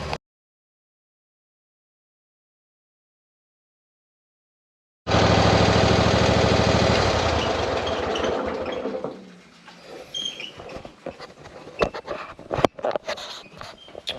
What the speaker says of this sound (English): All right, done mowing.